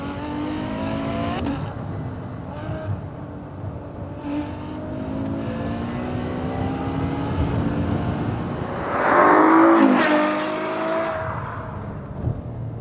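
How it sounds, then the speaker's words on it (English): A Ferrari F12's V12 engine revs hard in race mode and climbs through the gears, its pitch dropping abruptly at each upshift before rising again. Loud and close throughout. "upshifts, absolutely brutal upshifts here. We are in race mode."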